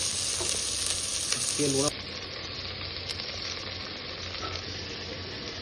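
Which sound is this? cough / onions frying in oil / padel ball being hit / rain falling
onions frying in oil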